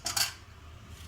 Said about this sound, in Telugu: కడాయి పెట్టానండి.